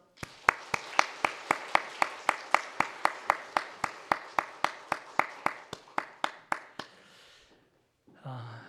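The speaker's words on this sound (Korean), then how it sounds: "자, 전달하고 받으실 때 우리 뜨거운 박수 부탁합니다." A Korean church congregation at Sunday worship claps in steady unison rhythm, about twenty evenly spaced, fairly loud claps that stop abruptly, followed by a brief pause and a short rustle.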